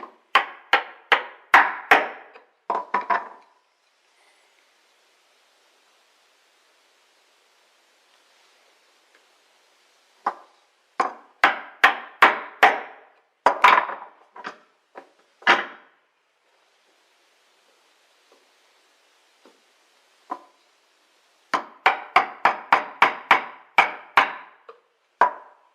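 A chisel is struck repeatedly to punch a dovetail cut through wood, sharp close mallet-on-chisel knocks in quick bursts of several blows separated by long quiet pauses.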